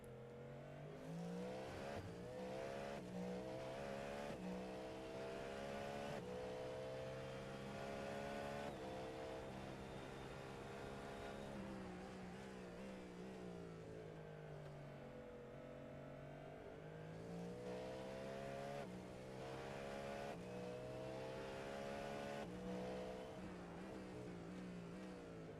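Several race cars in an iRacing simulation of the Sebring 12-hour race, including a Porsche and GTP prototypes, roar steadily on track with shifting engine pitch, upshifts and revs, a continuous loud mix with no talking.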